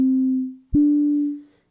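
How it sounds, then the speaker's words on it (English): Ableton analog synth with a single oscillator shaped by a pitch envelope plays two sustained tonal notes, each starting with a sharp attack and briefly separated by a gap, alone and fairly loud, the second note fading out. "So only oscillator 1 sounds like this now."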